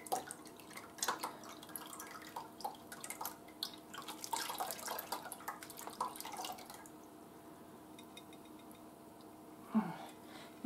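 Homemade apple cider vinegar dribbling out of a jar: faint, irregular drips and small splashes close by, thinning out toward the end with one last louder drop.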